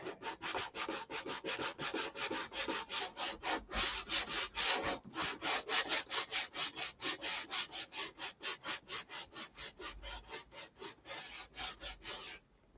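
Sandpaper scrubbing paint off a rudder by hand in fast, steady back-and-forth strokes, a loud, close rasping rhythm running without pause for over twelve seconds.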